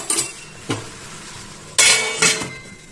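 A metal lid is set over a pan of cabbage cooking with fish head, giving four sharp metallic clanks and rattles spaced unevenly, close and fairly loud, with quiet kitchen background between them.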